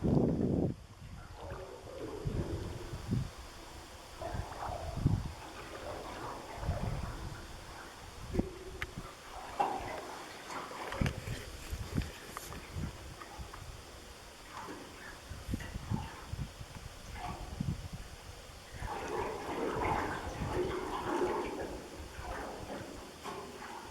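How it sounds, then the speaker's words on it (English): A boat underway on Lake Champlain in moderate winds: quiet, irregular knocks and sloshes of water against the hull with gusting wind noise and occasional creaks, fairly faint and intermittent throughout. "These are the sounds of the boat underway in moderate winds."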